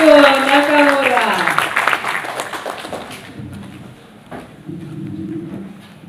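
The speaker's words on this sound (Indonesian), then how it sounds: "marilah sekali lagi kita sambut dengan tepuk tangan yang hangat Profesor Mitsuo Nakamura." An audience applauds to welcome Professor Mitsuo Nakamura at an Indonesian book discussion on Islam in Indonesia. The clapping starts under a speaker's voice, then thins into a softer, scattered patter as the talking fades.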